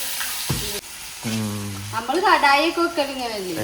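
Crushed ginger and garlic with fennel seeds hit hot oil in a kadai, giving a steady close sizzle with stirring scrapes, and a voice speaks briefly over the frying toward the end.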